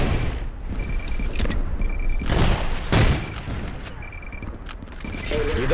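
Grenades burst in a loud firefight, with repeated heavy booms breaking through constant gunfire and a faint beeping alarm tone in the background.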